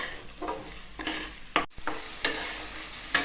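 Spice masala with tomato ketchup fries in a pan while a spatula stirs it, sending repeated scraping strokes over a continuous close sizzle, with one sharp knock in the middle.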